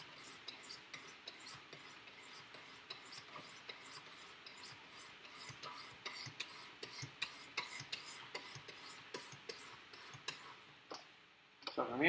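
A Spyderco Salt 2 knife being sharpened on a stone, with rhythmic, quiet rasping strokes and light clicks repeating evenly for several seconds, close and soft.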